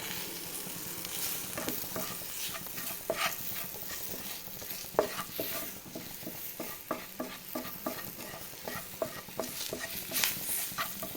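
Curry leaves sizzling in a frying pan while soya chunks 65 cooks, a steady crackling hiss with frequent sharp pops and scraping stir strokes throughout, close and fairly loud.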